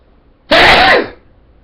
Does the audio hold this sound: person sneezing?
yes